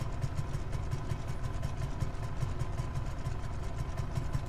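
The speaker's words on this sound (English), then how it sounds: "you can see the rear engine's running just fine" Rear engine of a Marchetti flying boat running in Microsoft Flight Simulator, a steady droning hum with an even, rapid pulsing rhythm, moderately loud and unbroken.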